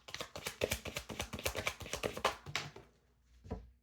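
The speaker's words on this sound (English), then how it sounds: "I'm just going to shuffle these one last time" A deck of cards is riffled and shuffled in rapid, crisp flutters of rhythmic snapping, close and clear, ending with a couple of softer taps.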